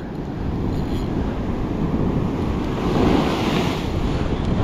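Heavy surf rolls and crashes continuously, a broad roaring wash of ocean water with wind buffeting the microphone.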